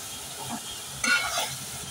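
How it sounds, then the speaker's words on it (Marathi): Garlic paste being sautéed in a pan gives a soft, close sizzle with scraping stir strokes, including one brighter stir near the middle. No one speaks. "लसणाचा कच्चा वास जाईपर्यंत छान परतवून घेऊया"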